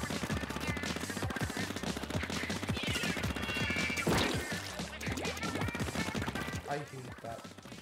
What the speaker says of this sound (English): I hate that type of bomb.